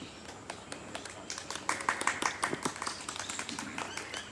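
An audience claps at a 2021 Yoga Day gathering with the Brahma Kumaris and Rotary Club in Ambala Cantt. Scattered individual claps build into brisk, moderately sparse applause in a room.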